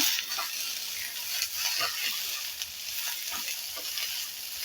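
Sweet corn kernels sizzle steadily in a pan over low heat while being stirred for upma with curry leaves and coriander, a continuous close frying hiss with soft scraping stir sounds and no voices.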